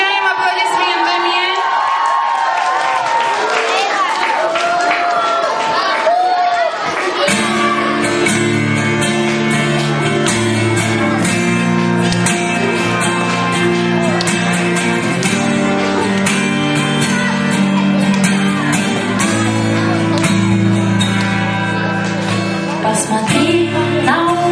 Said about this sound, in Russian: Встречаем аплодисментами.